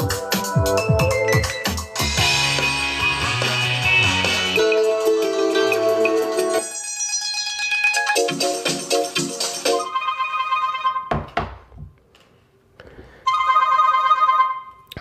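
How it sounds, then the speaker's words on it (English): A Doogee DG800 phone plays through its voice call ringtones, a series of loud melodic electronic tones and chimes that shift from one tune to the next with brief pauses between them. "if we go here to voice call ringtones"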